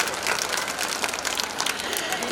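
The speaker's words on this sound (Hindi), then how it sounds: "तो अब ताली कैसे बजाएंगे? ताली तो बनती है" Audience at a girls' intermediate college function in Jhansi breaking into sustained applause, many hands clapping densely and loudly nearby, with crowd voices mixed into the steady wash of claps.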